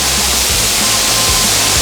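Car wash water jets spraying hard, a loud, dense and steady rushing hiss with no let-up, heard up close from inside the car.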